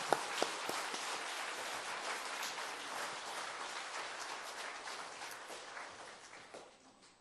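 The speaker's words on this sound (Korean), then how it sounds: "하나님 앞에 박수 한번 올려드리면서 우리 목사님 맞이하겠습니다" A church congregation at a New Year revival evening service applauds to welcome the pastor, a dense, even wash of clapping from many hands that holds steady, then slowly fades.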